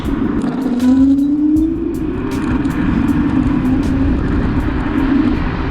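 An electric scooter ridden fast, with a steady motor whine that rises in pitch over loud rushing wind noise and road rumble, with faint ticking clicks throughout and no talking.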